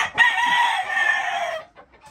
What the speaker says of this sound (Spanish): miren los gallos